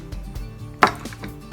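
A kitchen knife slices through raw whelk meat on a cutting board, giving several soft taps and one sharper close thwack of the blade hitting the board, with no voices.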